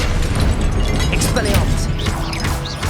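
A Confringo fire spell bursts in Hogwarts Legacy, a loud crackling blast with popping debris and fizzing sparks spread through the whole moment.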